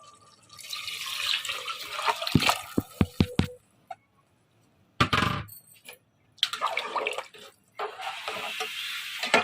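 Water splashes and gurgles as it is poured into a cooking pot of rice for haleem in several bursts, with brief drips and pauses between pours, close by.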